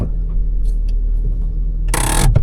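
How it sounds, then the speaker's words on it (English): A used car's engine, with a slight exhaust blow, runs on a test drive: a steady low rumble from inside the cabin, then a brief loud hissing burst near the end. "Engine sounds alright"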